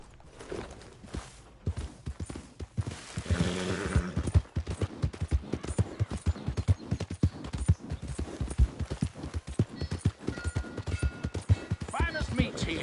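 Horse hooves in a video game clip-clopping in a steady rhythm, moderately close, with scattered in-game voices and ambient noise underneath.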